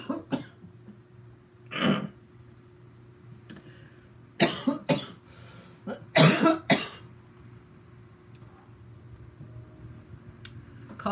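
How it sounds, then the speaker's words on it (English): Several sharp coughs in separate bursts, one early, a pair in the middle and a heavier double cough later, close by with quiet gaps between. "Coughing is not my friend."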